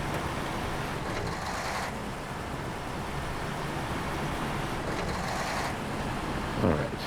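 A Tatra truck in the SnowRunner video game drives with a steady, continuous engine and road rumble throughout, with a brief rise in noise near the end.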